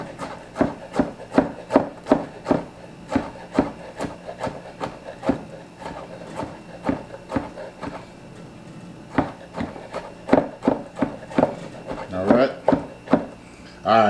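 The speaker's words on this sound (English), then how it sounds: "And I'm going to chop these up." A knife chops ingredients for Philly cheesesteak on a cutting board, a long run of sharp, evenly spaced close knocks with short pauses, quickening into a dense cluster near the end.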